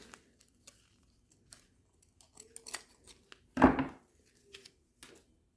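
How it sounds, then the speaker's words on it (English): Scissors snipping a strand of jute twine during a craft project, a few soft scattered clicks of the blades followed by one sharp louder snip, close by in a quiet room. "So I'm just going to get a strand off. I'll cut it."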